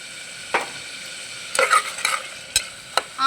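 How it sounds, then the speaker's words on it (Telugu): Onions sizzle steadily in a pan for veg biryani while a spoon scrapes and taps through them in several sharp, close strokes. "ఆనియన్స్ బ్రౌన్ కలర్ రావడానికి ఒకసారి తిప్పుకుందాం ఫ్రెండ్స్"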